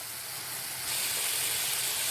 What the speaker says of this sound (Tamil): இதையும் சேர்த்து நம்ம தாளிக்க போகிறோம்.